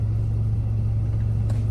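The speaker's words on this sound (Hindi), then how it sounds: "इसमें मैग्ना फ्लो का एंड कैन एंड टिप्स लगे हैं मैग्ना फ्लो के, with the whole cat back setup" Modified Volkswagen Polo GT TSI fitted with a Magnaflow cat-back exhaust and tips gives a steady, close, deep low rumble at idle, heard alone without talk.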